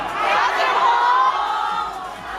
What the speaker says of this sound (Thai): กรี๊ดเลยครับ